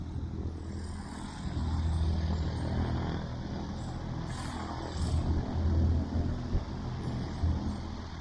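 Light aircraft taxiing toward the runway at Sleap Airfield, a low steady engine drone at moderate distance that swells in a few places, with faint outdoor background.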